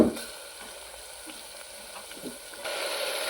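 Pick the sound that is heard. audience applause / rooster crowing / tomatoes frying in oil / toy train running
tomatoes frying in oil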